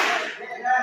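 A single sharp hand clap from a group clapping chant in a classroom activity, brief and moderately loud, with a little ringing tail.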